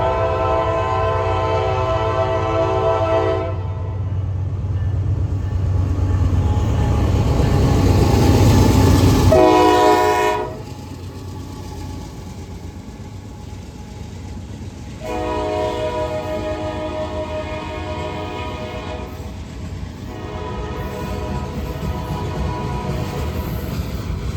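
Northbound Norfolk Southern freight train with C6M locomotives passing at Gaffney, South Carolina: several long, loud horn blasts sound over a heavy engine rumble, followed by the steady roar and rattle of the cars rolling by.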